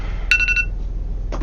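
A mobile phone reminder alarm gives a quick bright run of four beeping tones, loud and close. A faint second chirp follows a moment later.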